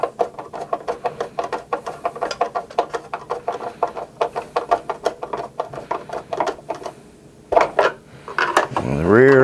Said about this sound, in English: Tighten down the one in the center first.